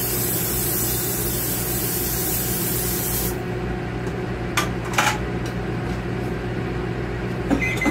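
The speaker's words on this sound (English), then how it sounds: "I'm just going to spray it with some butter flavored cooking spray." Butter-flavored cooking spray is misted onto a pan as a steady, close aerosol hiss that runs without a break for about three seconds, then stops, leaving only a low background hum with a few faint clicks.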